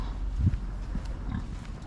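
A pig on a farm at a museum with an Anglo-Saxon village gives a few low grunts, close but fairly quiet over a steady outdoor background.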